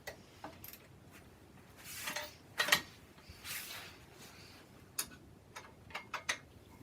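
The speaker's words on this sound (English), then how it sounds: "You'll be able to get to some with a ratchet" A ratchet working 17 mm bolts on a cast-iron jointer, heard as faint, irregular metallic ticks and clicks in short clusters with a few louder scraping bursts, close but quiet, with no talk.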